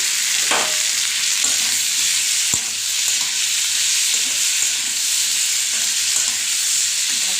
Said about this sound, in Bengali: এবার আমি এর মধ্যে বাটাগুলো দিয়ে দেবো